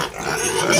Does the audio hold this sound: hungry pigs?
yes